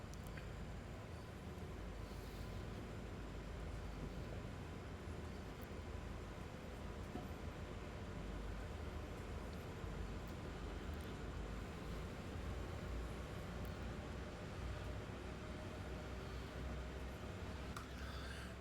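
In Train Sim World 5, a freight train hauls empty iron ore cars around Horseshoe Curve behind GP38 locomotives, a steady low rumble and wheel roar at a constant, fairly quiet level with faint occasional clanks.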